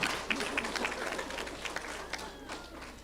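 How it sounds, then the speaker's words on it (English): Applause for fourth grade award students in a school setting, a steady patter of clapping from a small crowd with a few sharper claps and no speech over it. "give them a round of applause"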